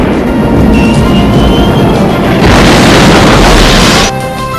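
A carpet-bombing explosion effect, heard as a loud, continuous roaring blast of dense noise that swells midway and then cuts off abruptly near the end, leaving a faint tail.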